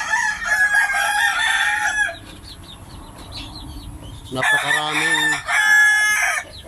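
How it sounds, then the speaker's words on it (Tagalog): A McLean Sweater hen brooding on a clutch of twenty eggs gives loud clucking calls with a crow-like phrase, pausing briefly in the middle before the calls return. "Yung aking bulik na McLean sweater mga idol, naglilimlim na."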